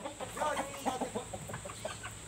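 A Thai-breed chicken on a small farm clucks in a run of short, close, irregular calls over low background noise.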